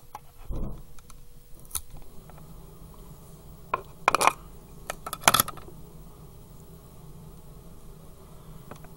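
Scissors snip the end off fly tying material while a Goddard Caddis fly is tied. A few sharp, close clicks and snips stand out over a quiet room.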